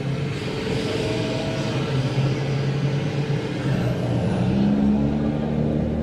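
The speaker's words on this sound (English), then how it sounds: "This is why we have traffic." Dense road traffic rumbles on a California highway with lanes closed, a continuous close roar of cars and trucks with low engine drone and a faint rising whine, steady and loud throughout.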